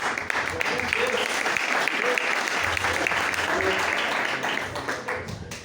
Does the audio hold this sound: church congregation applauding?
yes